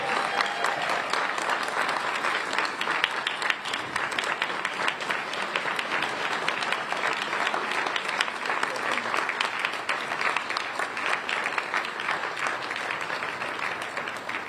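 A long, sustained round of audience applause for winning police officers at a community relations awards ceremony, thick and even clapping from a large room that continues for over ten seconds, with a voice briefly audible beneath it.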